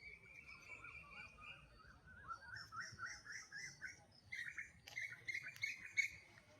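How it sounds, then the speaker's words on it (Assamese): Small birds chirp and trill outdoors on an evening in Assam, India: quick bursts of high, twittering calls repeat in short phrases over quiet background rustle. "কিবা এটা চৰাই আছে,"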